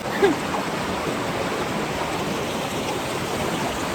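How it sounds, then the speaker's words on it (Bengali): Steady, continuous rush of the flowing Jhalong river, an even broadband wash with no voices. "জলের স্রোতটা বেশ ভালো স্রোত আছে"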